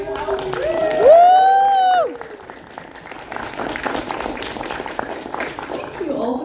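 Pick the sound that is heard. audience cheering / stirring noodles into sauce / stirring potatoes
audience cheering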